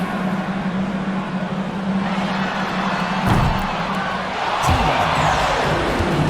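Arena crowd in an NBA 2K25 basketball game cheers steadily over a constant roar, swelling slightly partway through and again near the end, with no voices standing out.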